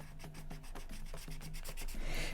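A dry chisel-tip marker rubs back and forth across paper in quick, regular scratchy strokes, close and fairly quiet, about a dozen passes with no talking.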